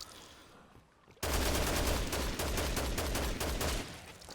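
Rapid automatic gunfire from the video game Dead Rising Deluxe Remaster rattles in a steady, dense stream after a quiet start, synthetic-sounding and fairly loud, with no voices.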